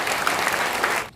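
A church congregation claps at an elders' retirement and ordination ceremony, a short, dense burst of even applause that cuts off abruptly at the end.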